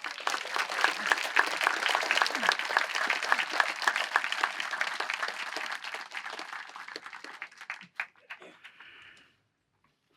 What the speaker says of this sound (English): have another round of applause for that wonderful performance